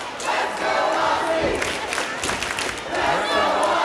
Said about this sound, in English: I'll let the crowd kind of take over there for a minute. They love Princess Aussie.